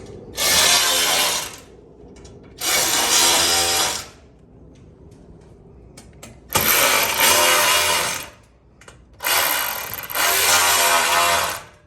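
Bolts on a Cybertruck sport rack being run down with a torque-limiting power gun: four loud, buzzing mechanical bursts of one to two seconds each, with faint clicks and handling noise in the quiet gaps between them.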